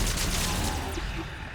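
Rapid gunfire from shooting in the video game Mass Effect 3, a dense continuous burst of shots filling the whole moment at steady loudness.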